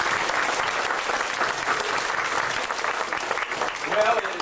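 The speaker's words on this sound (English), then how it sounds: "Let's give them another round of applause." An audience at a Christian athletes' banquet claps in a steady, full round of applause that keeps going at even strength for several seconds, with the sound of the room filling in behind it.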